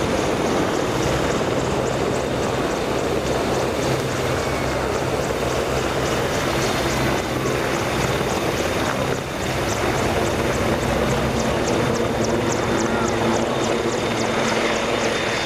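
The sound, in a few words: Merlin Mark III helicopter coming to a hover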